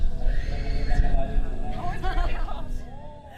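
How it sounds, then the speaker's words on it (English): Horses neigh and whinny at a busy stop near Taal Lake in Talisay, Batangas, with hooves clip-clopping underneath. The whinnies ring out clearly over steady crowd chatter and nearby voices. "our first task was to find our horses"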